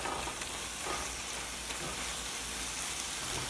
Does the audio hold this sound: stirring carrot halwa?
yes